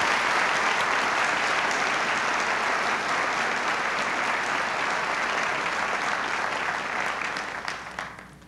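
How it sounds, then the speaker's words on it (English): Sustained crowd applause for an award recipient at a spring university convocation ceremony, continuous and even before thinning out at the end. "let's give her a round of applause"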